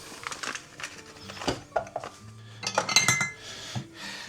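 Metal utensils clatter and clink against a deep frying pan holding butter, with scattered knocks and scrapes at close range, no talking.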